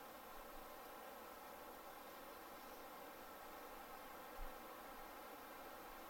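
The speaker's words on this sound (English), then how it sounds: "there's some kind of a bee's nest over here. There sure is a crap ton of bees." Bees swarm around a nest at a bushcraft camp during a day hike, a faint, steady, continuous buzzing drone in the background with no voices.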